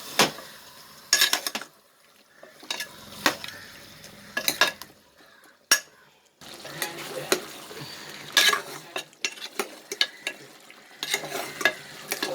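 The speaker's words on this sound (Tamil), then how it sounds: "இந்த மசாலா சேர்த்து ஊற சிக்கனை நல்லா வதக்கிடணும்." Country chicken coated in masala sautéed in oil in a pan, with repeated spoon scrapes and stirring strokes over a steady sizzle, close and clear, pausing briefly before the stirring resumes.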